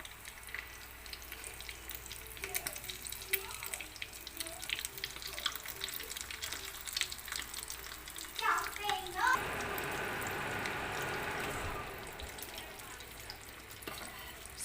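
Beef spring rolls with vegetables frying in a pan, a steady faint sizzle with a brief louder hiss midway, close, with background noise and no clear talk.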